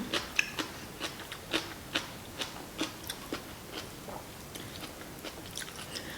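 Close, crisp bites and crunchy chewing of kimchi eaten alongside spicy seafood ramen and black bean noodles, a steady series of short crunches about every half second, no talking.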